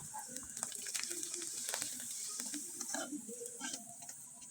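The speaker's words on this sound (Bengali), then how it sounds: "এবার আমি 2টা পিঠা আপনাদের তেলে ভেজে দেখিয়ে দিচ্ছি।" Sago (sabudana) pitha cakes sizzle in hot oil, a steady crackling fry with scattered spits and pops and faint clinks throughout, close and moderately loud, with no talking.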